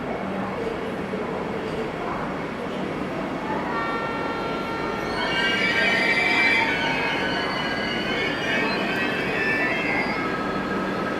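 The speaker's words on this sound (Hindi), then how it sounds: "वंदे भारत एक्सप्रेस का अराइवल इटारसी जंक्शन पे।" The Vande Bharat Express pulls into Itarsi Junction with a continuous rumble of wheels and sustained high squealing brakes that rise in the second half, loud and close, with faint voices in the background.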